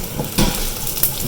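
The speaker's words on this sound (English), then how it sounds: "Stir fry it, wait for it to get a little brown in color" Long-cut onions stir-frying with mustard in a pan, with a close sizzle and a couple of quick scraping knocks from stirring.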